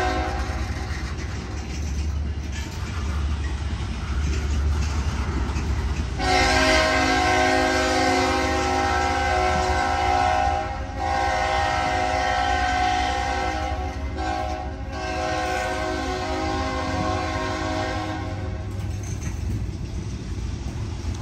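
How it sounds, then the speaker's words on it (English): A GE P42DC diesel-electric locomotive hauling an Amtrak Capitol Limited passenger train with baggage car and Superliner coaches rumbles past nearby in Elkhart, Indiana, engine droning loudly with a sustained horn-like tone, followed by steady rolling rail noise. "a General Electric P42 DC diesel electric locomotive. And then a baggage car, and then a Superliner coach"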